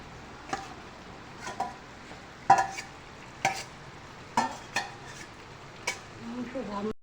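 A spoon stirs tomatoes and meat for biryani khichdi in a pot, with about eight evenly spaced scraping strokes over a soft, steady sizzle.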